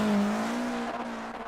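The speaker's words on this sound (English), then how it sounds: "they did a great job at WRC 8 on the sounds on this car" A rally car in the video game WRC 8 roars past, its engine note holding steady then fading with a slight tyre squeal, loud and close with no talking.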